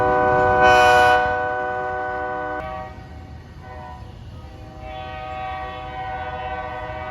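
A Hamilton Northwestern Railroad train passes close by, its horn blaring steadily for a few seconds before the rumble of rolling rail cars continues underneath, with the horn sounding again more faintly.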